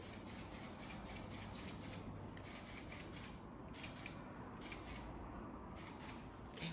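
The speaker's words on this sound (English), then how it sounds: "Now I'm gonna spray this." A spray bottle mists water onto hair during a salon pixie cut, giving a continuous close, even hiss of repeated spritzes with no talking.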